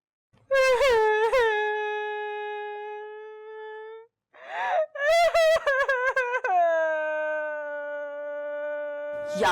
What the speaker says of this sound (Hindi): बाहर तलक तेरे रोने की आवाजें आ रही।